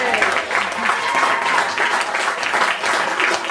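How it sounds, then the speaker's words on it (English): Audience applause after a live performance of a song, a dense, steady wash of clapping at close range that fills the whole stretch with an even roar and small voices mixed in. "Big round of applause for that."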